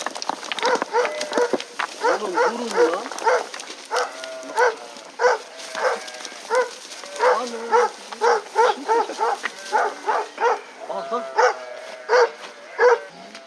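A stray dog barks on a hiking trail along the Lycian Way near Kalkan, a run of loud, close, repeated barks in uneven bursts.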